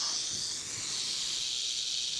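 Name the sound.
North American rattlesnake hissing or rattling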